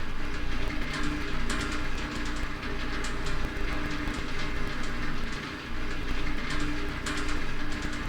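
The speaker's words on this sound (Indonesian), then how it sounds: "pada saat kita tekan tombol start, konveyor 1 dan konveyor 2 itu akan berbarengan menyala ya, ataupun bergerak." Simulated conveyor belts run in Factory I/O software, a steady, dense rumbling clatter with faint rattling, continuous and fairly loud throughout, with no talk over it.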